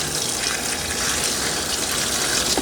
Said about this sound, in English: What I'm going to do is I'm going to pour some into the Spinarinse